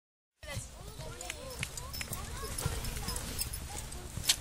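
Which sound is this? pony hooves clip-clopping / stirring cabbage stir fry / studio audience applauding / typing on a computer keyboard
pony hooves clip-clopping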